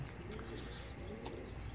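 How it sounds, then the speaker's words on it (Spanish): Soft, low pigeon coos repeat under a constant background hum, fairly distant and steady. "tiene como 12 palomas cogidas"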